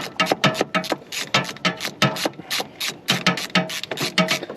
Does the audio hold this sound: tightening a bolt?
yes